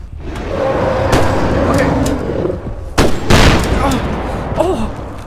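Gunfire in a Bigfoot hunting video game, with heavy booming shots and bursts cutting through a constant noisy background, a loud cluster near the middle and scattered thuds after.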